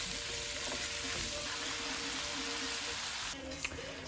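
Shrimp seasoned with garlic, salt and black pepper sizzle in a pan with a soft, continuous hiss, quiet but even, shifting slightly near the end as the pan is disturbed.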